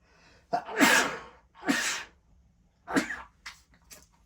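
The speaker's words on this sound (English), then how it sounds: "Every time the camera's on I gotta sneeze" A series of three or four forceful sneezes close to the microphone, each with a quick intake of breath, separated by short quiet gaps.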